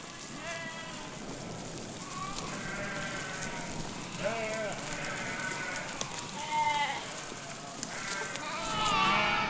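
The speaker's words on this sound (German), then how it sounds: "damit die über 300 Schafe und ihre Lämmer geordnet um die Ecke kommen" A flock of over 300 Heidschnucken sheep and their lambs moving along together, with repeated overlapping bleats near and far over a steady shuffling background, some faint voices mixed in.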